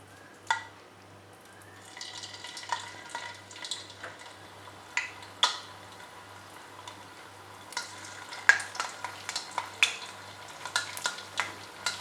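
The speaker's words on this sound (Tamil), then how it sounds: "இப்போ எண்ணெய் சூடு பண்ணி இதை வறுக்க ஆரம்பிச்சிடலாம்." Mushroom batter goes into hot oil for a roadside-style mushroom masala, producing light crackling bubbles and scattered sharp clicks and taps of a utensil that grow busier toward the end, close and fairly quiet with a low steady hum beneath.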